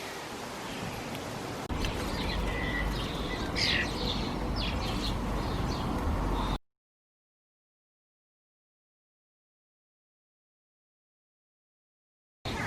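Small birds chirp and tweet around a woven willow feeder in a garden, light calls scattered over steady outdoor noise before the sound cuts out.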